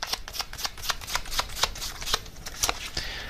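Tarot cards are shuffled close by in a brisk run of crisp, rapid riffling bursts, alone with no talking.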